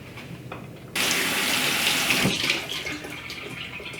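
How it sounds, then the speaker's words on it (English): Running water gushes suddenly from a kitchen tap into the sink where frozen peas are draining, a loud steady splashing stream that continues close by after a quiet start. "I'm going to let my frozen peas drain in the sink"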